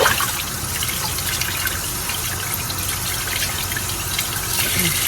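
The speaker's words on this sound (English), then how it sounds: "keep it under the warm water, just to keep whatever wax is in there nice and pliable" Warm tap water gushes steadily into an emptied Bath and Body Works candle glass jar being rinsed of leftover wax, a continuous close, full splashing rush from start to end.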